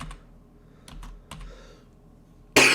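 A few quick keystrokes tap on a computer keyboard while a city name is typed into a hotel booking search, soft and close, ending in a sudden loud burst of noise.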